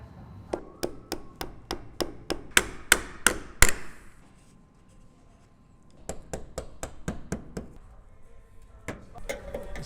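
Brittle material being broken out of a 1966 Ford F-100 truck with a hammer: a rapid series of sharp, loud metallic strikes, a pause, then more irregular blows, close by with no talking.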